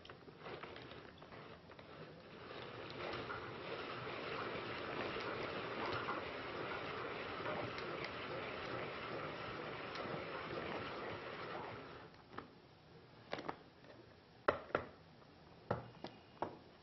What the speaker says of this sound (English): we can then move to the fourth gear for finer chopping